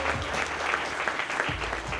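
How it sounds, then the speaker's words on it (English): Audience applause for a panel of speakers at a brand-launch event: dense, steady clapping from a full room, sustained and fairly loud for the whole stretch with no break. "Can I get a round of applause for all of our panelists"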